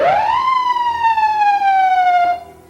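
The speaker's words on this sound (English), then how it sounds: "bump the siren switch." An ambulance siren gets a short bump from the switch during a vehicle check, one loud rising-then-falling wail sounding close and alone before cutting off.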